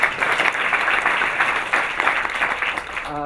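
An audience at a public forum on small to mid-size New York theaters applauds steadily, dense clapping throughout that cuts off abruptly at the end.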